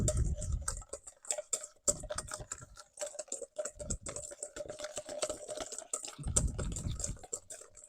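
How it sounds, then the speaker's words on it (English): A whisk beats salt and juice together in a bowl, giving quick irregular clicking taps against the sides with soft low thumps, close and fairly quiet. "So I'm just going to take a whisk and get that mixed up in there real good."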